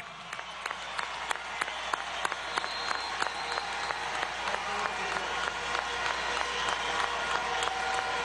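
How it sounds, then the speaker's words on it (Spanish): A large crowd at a workers' congress in Venezuela applauds health workers, a dense, steady wash of clapping lasting throughout with occasional sharper individual claps standing out. "Un aplauso a los trabajadores de la salud venezolana"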